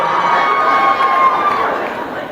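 A live audience at a comedy event cheers and hollers in a steady, loud crowd roar with talk mixed in.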